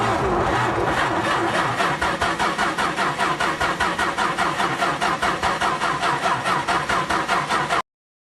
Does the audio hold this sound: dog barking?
no